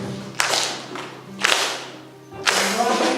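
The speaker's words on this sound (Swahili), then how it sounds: "Tumpigie Bwana Yesu makofi." A Kikuyu church congregation at a fourth Sunday of Advent service breaks into three bursts of clapping and applause, close and lively, separated by short pauses.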